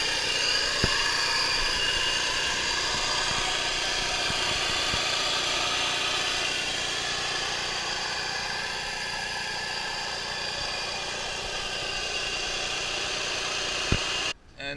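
An Audi A6 Allroad engine idles after a cold start, a steady, even mid-pitched hum with faint vibration running continuously, a couple of brief clicks, and no talking.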